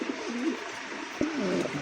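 Racer pigeons coo at a pigeon market, a close pair of soft throaty rolling calls, the second starting after a brief sharp knock, over steady market background noise.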